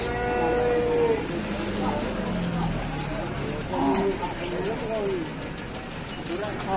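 Jumbo cattle at a livestock sale let out several long, low moos at intervals, mixed with people talking nearby and outdoor background noise.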